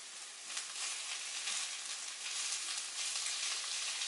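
Steady, quiet sizzling of liver frying in butter in a pan, a continuous crackle with small pops and no talking.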